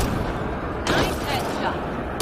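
A single gunshot in Mass Effect Andromeda, a sharp close burst near the end of a short stretch of game ambience and broad noise, following a louder swell of in-game sound.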